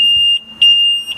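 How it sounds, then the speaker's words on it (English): Steady electronic beeping from the dashboard of a 2009 Cobalt 276 boat, a continuous high tone with short pulsed chirps layered on top, close and loud. "Pardon the beeping, part of boating."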